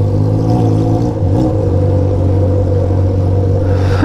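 A car engine revs hard and loud on a city street in Brussels near Gare du Nord, a steady close roar with a rising whine near the end and no talk over it.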